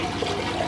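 A toilet flushed by pouring a bucket of water into the bowl makes a dense, continuous rush of gushing and draining water, loud and close throughout.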